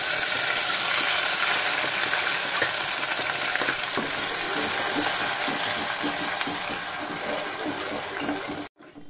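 Ground roasted masala tipped into a hot pan of beans and dal, with curry leaves, frying with a steady, dense sizzle throughout, ending in a brief sharp drop.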